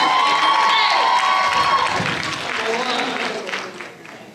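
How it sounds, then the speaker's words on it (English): A university pageant audience cheers and claps for contestant number 1, loud crowd noise with shouts and whoops that gradually fades, and a voice speaks over it. "Can we get another round of applause for contestant number 1?"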